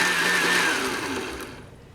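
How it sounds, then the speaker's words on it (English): A kitchen blender whirs steadily, blending raw fish with onion, salt and pepper into batter for Danish fish cakes (fiskefrikadeller), loud and close with its pitch drifting slightly as the load thickens, then easing off toward the end. "then of course it goes in the blender together with the fish"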